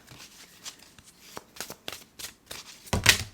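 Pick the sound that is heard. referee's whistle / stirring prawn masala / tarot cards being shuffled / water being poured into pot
tarot cards being shuffled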